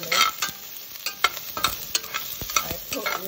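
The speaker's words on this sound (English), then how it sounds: "Now I'm stir frying some vegetables." Carrots and other vegetables sizzling in olive oil in a pan while being stirred, with scraping clicks and taps of the utensil at an irregular pace, close and clear.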